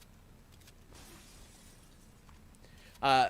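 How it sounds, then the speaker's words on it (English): Glass shattering in the video game Raid: a single loud, sharp crash bursts out at the very end after a stretch of quiet background noise. "This guy's covering me while I break the glass."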